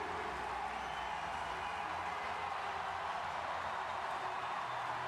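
A home crowd roars at the London 2012 Paralympic track cycling, during men's C5 individual pursuit qualifying. The dense, steady wash of cheering and applause holds level throughout without distinct individual claps.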